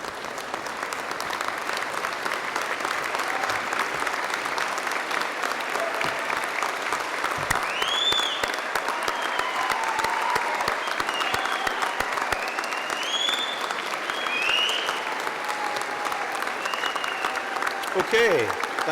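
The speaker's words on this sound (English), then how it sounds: "give them a huge round of applause" An audience at a graduation ceremony gives sustained, loud applause, dense clapping from a large crowd that carries on without a break, with a few whistles and cheers mixed in.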